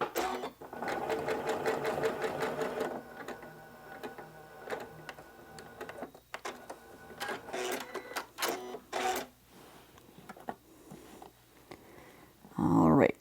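Sewing machine stitching a vintage linen table runner, bursts of rapid mechanical whirring and clatter starting and stopping, close and moderately loud, with a person speaking in between.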